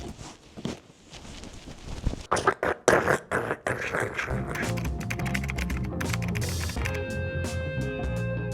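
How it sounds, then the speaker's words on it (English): Close, irregular rustling and scraping bursts from a camera rubbing against a backpack give way to continuous handling noise and a faint tonal hum. "you'll get weird rustling sounds like..."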